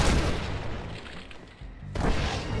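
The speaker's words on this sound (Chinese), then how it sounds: "见到有啲修女识开枪啊" Gunfire in the video game Red Dead Redemption: Undead Nightmare, heard as loud booming shots. A dense burst opens the passage, it eases off briefly, then a second heavy blast follows.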